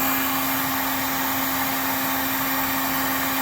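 A heat tool blows a steady, loud, continuous whirring hiss with a constant whine as it heats exhaust wrap tape on a 1994 Acura Vigor GS exhaust, with no pauses or changes.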